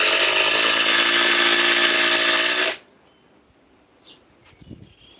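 A fully charged Ryobi 2200 inch-pound 4-mode impact driver on a 4 amp battery runs with a loud, steady whirring hammer for under three seconds, then cuts off abruptly, leaving quiet room tone with a few faint bird chirps.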